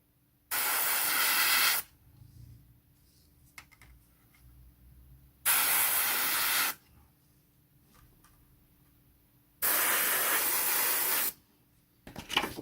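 Spray paint hisses over a stencil on a Battlestar Pegasus model in three separate bursts, each a second or more long, close and fairly loud with quiet pauses between.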